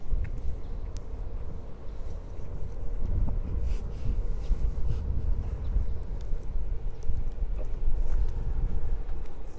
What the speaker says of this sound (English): The wind is out of the northwest, about 7 miles an hour.